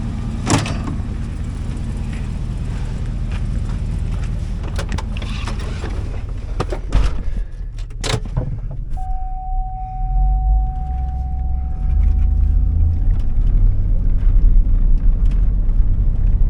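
A 2004 Hummer H2 with the 6.0L LQ4 V8 drives along at a wrecking yard, a steady low engine and road rumble with a few sharp knocks and clunks and a brief sustained tone partway through.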